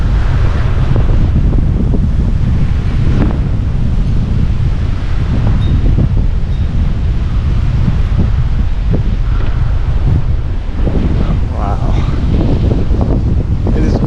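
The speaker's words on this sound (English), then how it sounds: "That was probably like a 30, maybe even 40-mile-an-hour wind gust." Strong November windstorm gusts roar and buffet the microphone without a break, a heavy low rumbling wind noise, loud and close throughout.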